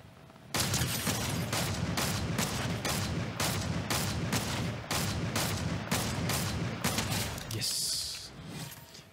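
Gunfire in the Fortnite video game, loud rapid bursts of shots in a steady rhythm of about a dozen blasts, with a brief higher effect near the end.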